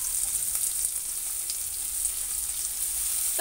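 Onions and green chillies fry lightly in a pan with a steady, soft sizzle that holds evenly throughout, close and moderately quiet, with no one talking.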